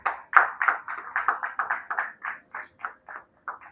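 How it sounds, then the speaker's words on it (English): An audience at an annual talent awards dinner clapping for themselves, a sparse run of distinct hand claps at an uneven rhythm, close and moderately loud, thinning toward the end. "And we have to clap for ourselves for that"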